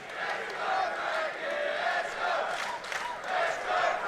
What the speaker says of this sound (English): Crowd starting to get behind Frank the Tank here.